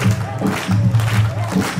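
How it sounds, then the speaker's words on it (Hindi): Audience at a devotional singing gathering clapping in rhythm, steady repeated claps over a crowd murmur and thumping, with a voice speaking over it. "ताली बजाना जरा।"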